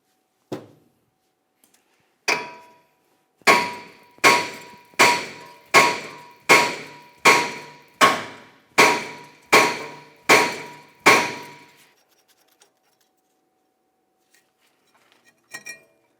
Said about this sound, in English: I'm going to be using my hammer directly along this area where our brake rotor connects to the wheel bearing.